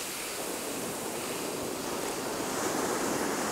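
Ocean surf breaks and washes continuously on a beach where anglers fish from the shore, a broad, steady roar of waves with wind noise buffeting the microphone throughout.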